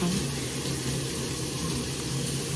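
Water running steadily from a tap for a bath, a continuous close rushing hiss with no breaks, fairly loud and alone.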